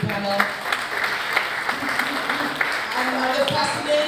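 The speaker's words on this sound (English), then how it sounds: "let's give a round of applause to our youth panel." Applause breaks out for a youth panel at a community spring mixer, a moderately loud patter of clapping with scattered sharp claps, while voices carry on over it.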